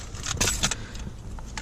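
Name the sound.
little bag full of keys jangling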